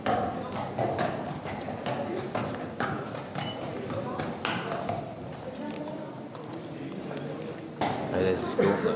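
Hooves of a horse carrying a rider clip-clop on the floor of a hall on a film set, a steady run of close hoof knocks under near-constant talk.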